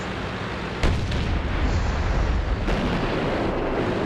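Heavy tank gun firing in World of Tanks, a loud booming shot with a rumbling tail, followed shortly by a second sharp report, alone without talk.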